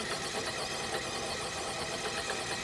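RC crawler motor with 1.9-inch trencher tires held under steady throttle, a continuous loud whirring, buzzing drone that stays even throughout, no talk.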